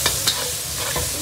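Loud, close sizzling as food is stir-fried with doubanjiang broad bean paste in a wok, with a couple of scraping strokes of the spatula over the continuous hiss.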